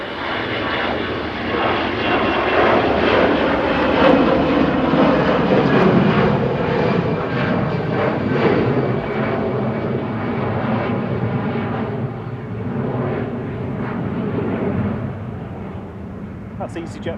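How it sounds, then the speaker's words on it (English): An EasyJet Airbus A320 Classic departs Manchester Airport with a loud, broad jet roar that swells early on and then slowly thins and fades as it moves away. "That's EasyJet flight 7270 to Palma de Mallorca. A320 Classic departing there"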